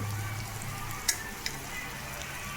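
Kaddi dry fish curry sizzles steadily in a pan as masala is stirred in, a soft continuous frying hiss broken by two brief scraping clicks of the spoon.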